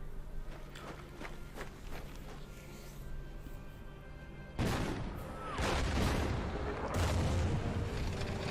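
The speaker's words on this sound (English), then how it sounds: "That's artillery, 242, I think." Artillery fire in the Order of Battle war game, set at Kharkov in 1943, comes as heavy booming blasts in the second half after a stretch of quieter ticking and rumble, loud and rolling, with no talking.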